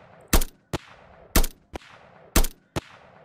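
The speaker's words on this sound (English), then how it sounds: "Now I'm inside and canon is firing." Cannon shots in an Unreal Engine 5 game project: three loud paired blasts, each a sharp boom followed by a shorter crack, evenly spaced about a second apart with silence between.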